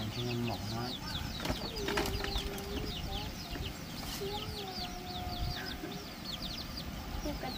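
Chickens cluck and squawk repeatedly nearby amid a busy farmyard chorus of other birds, with people talking intermittently over the clucking.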